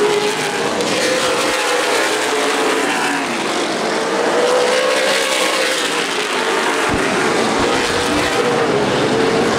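Race cars roaring around the oval at Anderson Speedway, a loud, dense wall of engine noise with pitch swells as the pack passes close by, continuous throughout.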